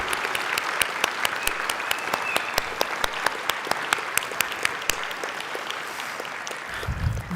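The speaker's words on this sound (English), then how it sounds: "So once again, let's give them a round of applause." A conference audience of elders and youth claps in a sustained round of applause, dense and steady with sharper individual claps standing out, fading slightly toward the end.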